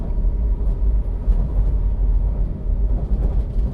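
A train carriage moving on rails, heard from inside as a loud, continuous low rumble with faint rattling jolts and no talk.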